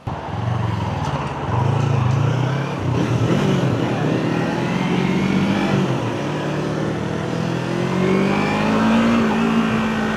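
A new Honda CBR1000RR motorcycle fresh from the dealer revs loudly and continuously nearby, its engine pitch rising and falling over about ten seconds.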